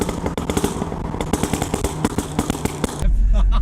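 An Audi S3 with a Milltek full exhaust and pops-and-bangs tune crackles and pops in a dense, irregular rapid string of loud bursts, ending in a deep engine rumble, with a voice briefly audible.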